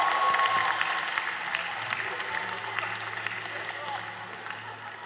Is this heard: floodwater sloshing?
no